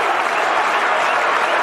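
The home crowd at an Argentina–Wales rugby test match gives a loud, dense, sustained burst of cheering and clapping that fills the stadium without a break.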